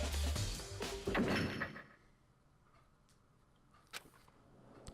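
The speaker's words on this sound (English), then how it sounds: "The door. It just locked on its own." A door in the video game Danganronpa shuts with a heavy thunk, and after a near-silent pause a single sharp click follows as it locks on its own.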